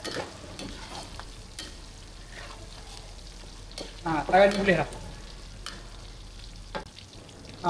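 Chopped bird's eye chilies and garlic sizzle in hot oil in a pan while being stirred, with a louder burst of frying midway and brief talk over the steady crackle.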